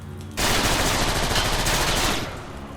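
Sustained standard machine gun fire from a Decepticon soldier in Transformers: War for Cybertron, a dense, loud continuous burst running about two seconds after a quiet start, then cutting off.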